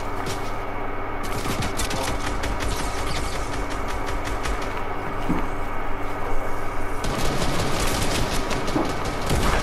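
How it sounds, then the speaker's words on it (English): Rapid gunfire from the video game Fortnite, a steady stream of dense crackling shots running throughout over a constant game backdrop, growing louder and busier in the last few seconds. "who's the freak shooting at me though?"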